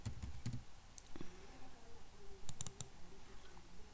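Keys struck on a computer keyboard while a spreadsheet formula is entered, a few scattered sharp clicks and short bursts of quick taps, close and fairly quiet with no talking.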